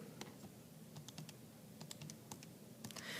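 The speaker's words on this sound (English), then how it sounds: "So I'm going to type it in my calculator." Numbers are tapped into a calculator in a quiet room: a series of soft, close, irregular key clicks spread over a few seconds.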